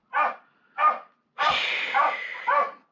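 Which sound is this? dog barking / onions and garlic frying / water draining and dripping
dog barking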